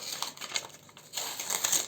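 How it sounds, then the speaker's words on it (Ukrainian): Crinkling and tearing of a small paper surprise packet as it is opened by hand, a quiet, close rustle lasting under two seconds with a louder burst of crumpling toward the end. "Беремо наш пакетик ось такий. І давайте ж відкриємо."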